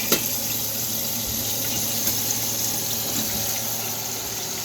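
Cold tap water runs steadily into a sink to rinse cooked pasta for a pasta salad, a continuous close hiss and splash with a brief knock at the start.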